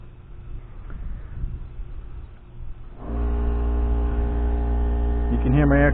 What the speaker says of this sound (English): You can hear my air compressor cut on in the background.